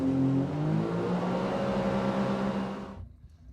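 A 2023 Scarab 285 ID boat's twin jet engines roar steadily at close range while accelerating, holding a loud, rising drone for about three seconds before cutting off abruptly.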